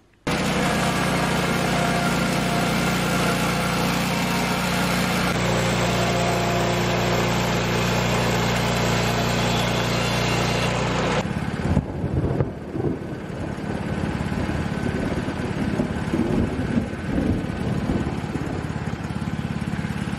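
A saw cuts wood into 3-inch trim pieces, a loud steady whine running for about eleven seconds and then cutting off abruptly, followed by quieter, uneven workshop noise.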